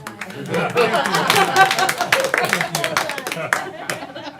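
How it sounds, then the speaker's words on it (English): Clapping from attendees at a school district board meeting, a moderate, uneven round of applause mixed with chatter and voices talking over it. "Applause for you."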